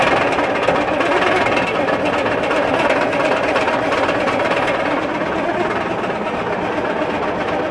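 A wrecked Peterbilt 359 truck engine cranks with the throttle held down, giving a loud, continuous churning and vibrating drone up close for several seconds without starting.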